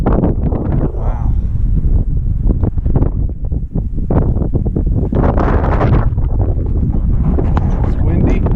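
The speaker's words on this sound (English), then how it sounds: "It's windy" Strong gusts of wind buffet the microphone in a loud, rumbling roar, with a person speaking intermittently under the blustery noise.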